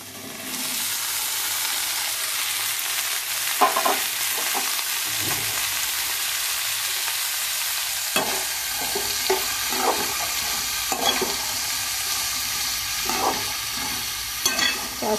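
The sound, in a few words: ridge gourd pieces frying and being stirred in a pan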